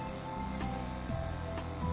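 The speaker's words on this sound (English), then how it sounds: "I'm just going to spray one of my cupcakes" An airbrush sprays yellow colour onto a white sugar paste cupcake with a steady hissing spray, close and continuous, with a low mechanical hum from the compressor underneath.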